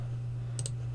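A computer mouse double-clicks while Windows installer software is set up: two quick, crisp clicks in a row over a steady low electrical hum.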